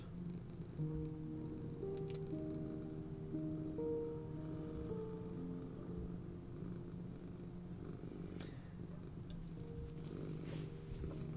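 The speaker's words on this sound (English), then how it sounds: "Can you hear these purrs?" Soft, steady purring rumbles close by in a quiet room, a low continuous vibration with gentle breathing rhythm and no voices.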